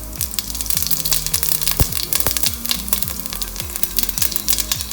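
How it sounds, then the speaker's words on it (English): Cumin seeds crackle and sizzle in hot cooking oil in a pan, a dense, steady frying hiss with scattered popping, close and loud with no talking. "Once oil is hot, let's add some cumin seeds,"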